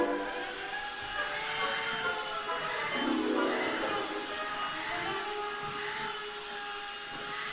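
A vacuum cleaner drones steadily with a whining hum that rises and dips slightly, close by and continuous throughout.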